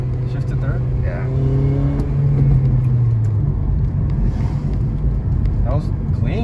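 A 2008 Honda Civic Si Mugen sedan with a manual gearbox pulls hard after a shift into third, its engine note rising in a loud, steady in-cabin drone, with people talking over it.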